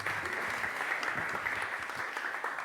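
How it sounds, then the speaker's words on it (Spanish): An audience at a book presentation applauds steadily for a commentator, a soft, even wash of clapping heard from a distance without speech. "Un fuerte aplauso."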